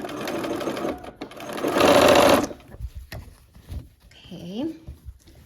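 Sewing machine stitching a quilt block with a quarter-inch seam, a steady close whir that swells loudest mid-clip then stops, followed by a voice and a brief two-tone chime.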